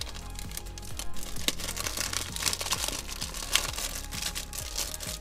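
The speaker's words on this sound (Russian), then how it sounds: "давайте мы для начала до конца раскроем тот пакетик, который я уже слегка надорвал" Crinkly rustling and crackling of a plastic packet of Lego Disney minifigures being torn open, in a steady stream of small bursts, close up, with a low thumping background running underneath.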